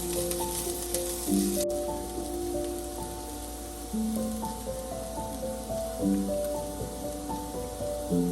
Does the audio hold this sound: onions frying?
yes